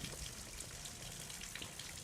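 Steady underground river water flowing beneath an abandoned campus, a continuous rushing wash with no break, fairly loud and close throughout, with no voices.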